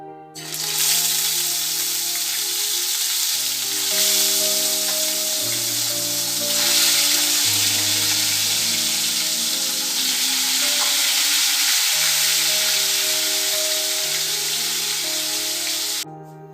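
Fish frying in hot oil gives a loud, steady broadband sizzle that holds evenly for the whole stretch, with soft tonal background music underneath.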